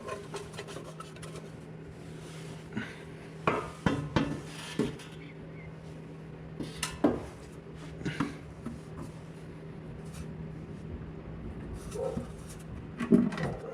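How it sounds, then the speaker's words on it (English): An engine oil pan being lined up and fitted onto a B20B engine in an EF sedan, giving quiet, sparse metallic clinks, taps and scraping rubs with pauses between them. "So, to install the oil pan now."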